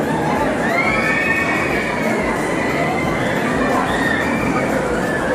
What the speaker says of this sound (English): Wow, this is a roller coaster.